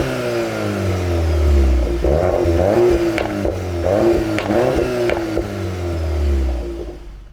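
Volkswagen Golf R exhaust in Nürburgring special mode: a loud, close engine rises and falls through several sharp revs, each with a crackling burble, then settles back to idle.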